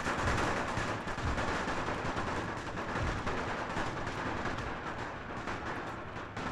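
Dense, continuous gunfire crackles and rumbles from massed rifles in the Great War mod for the strategy game Napoleon: Total War, a loud unbroken battle din with no talking.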